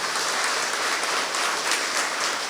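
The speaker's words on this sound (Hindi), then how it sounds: "ताली तो बजाइए प्रभु के लिए" A congregation in a Catholic church claps during praise and worship, steady, dense applause filling the hall without pause, moderately loud and even throughout.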